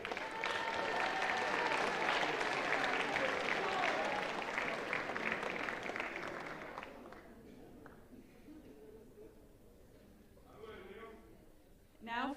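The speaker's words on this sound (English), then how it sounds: "You can give your freshman class a round of applause." Loud crowd applause for a freshman class at a chapel fills the first several seconds, then fades away, leaving quiet room noise and a voice speaking briefly near the end.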